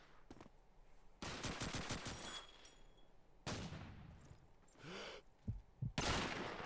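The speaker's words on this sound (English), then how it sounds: "Bullets coming back at him." Gunfire in the video game Call of Duty 2 during a competitive match: bursts of rapid shots crackle in several separate volleys, fairly close and loud, with quieter gaps between them and no talking.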